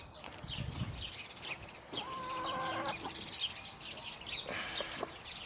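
Hens in a farmyard cluck and croon in short, soft calls scattered across the clip, with faint other bird notes and quiet rustling; no talk.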